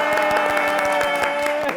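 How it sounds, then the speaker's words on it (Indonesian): Audience applause greeting guests at a New Year's special talk show, with a short burst of rhythmic, fairly even claps over a steady musical tone. "Tepuk tangan aja langsung ya, ini ada Miss Kiki dan juga ada Shode Ilham."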